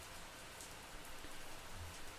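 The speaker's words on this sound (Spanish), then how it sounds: "La lluvia se desató con furia y de repente" Heavy rain pours down in a steady, dense hiss of drops hitting surfaces, loud and continuous with no voices.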